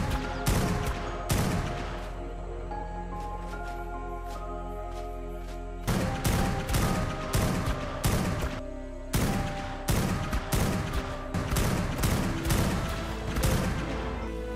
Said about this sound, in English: I was able to quickly grab my overpowered fabricated sniper rifle and began laying fire